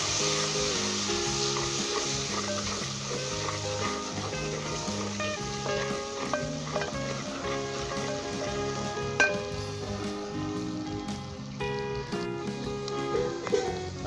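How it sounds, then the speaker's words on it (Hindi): Kasuri methi, turmeric, salt and ground masala fry in a pan for dry beef keema, producing a continuous close sizzle under steady background music. "और सिर्फ 2 से 3 मिनट हम इसे फ्राई करेंगे"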